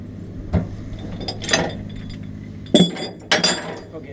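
Tie-down chains clink and rattle on a heavy haul trailer, a few separate metallic jangles at close range with quiet pauses between them.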